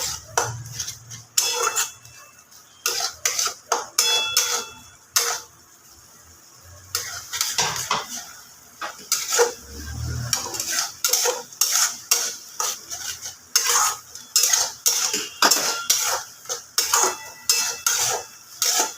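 Chicken masala with yogurt is stirred and fried in a pan, a close series of rhythmic scraping, clinking spatula strokes against metal over a faint sizzle, with brief pauses and no talking.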